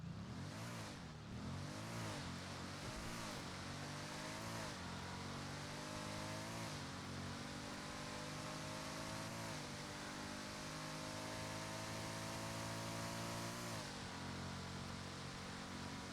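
An all-wheel-drive car engine in the GTA NoPixel video game revs and shifts repeatedly, climbing through gears in rising sweeps, then holds a loud, strained high drone that loses power in top gear, steady and close with no talk.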